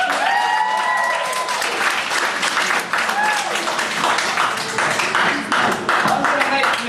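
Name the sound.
audience applause for volunteer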